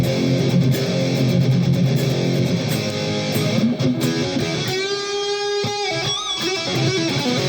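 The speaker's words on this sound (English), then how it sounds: "If I hit my distortion box," Loud, heavily distorted Ibanez AZ24S1F electric guitar through a Behringer Ultra Metal distortion pedal, playing chords and sustained notes, saturated and buzzing, ending with a few ringing bent notes.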